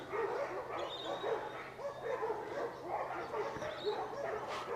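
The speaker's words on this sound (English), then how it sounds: "Dogs are going mental." Several dogs bark, yip and whimper excitedly at close range, a dense and continuous racket with no breaks throughout.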